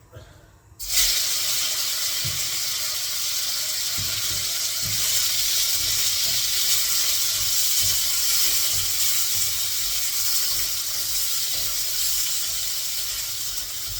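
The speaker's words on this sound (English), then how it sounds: "Just want to brown this off nicely, sear it, keep all the flavours in there." Meat sears in a very hot pan for an Indian curry, giving a continuous loud hiss and sizzle for over ten seconds, with a few faint low knocks from the pan.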